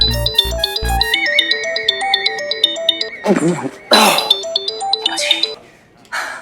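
A mobile phone ringtone plays loud and close, a bright repeating electronic melody. Short coughs or throat clearing and rustling bursts break in toward the end.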